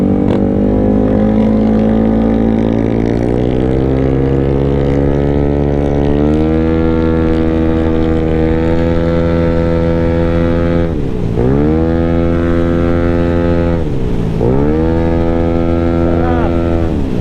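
A 213cc scooter fitted with performance parts runs on a multi-lane road, its engine droning loud and close with a steady tone that rises and falls through several throttle changes and brief dips.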